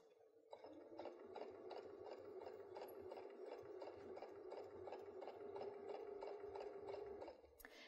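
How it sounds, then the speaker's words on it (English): A Baby Lock sewing machine fitted with a hemmer foot stitches slowly, giving a close, even, rhythmic clatter of needle strokes at a steady pace that starts after a short pause and stops cleanly at the end. "I'm just going to start stitching slowly so you can watch the action of this foot"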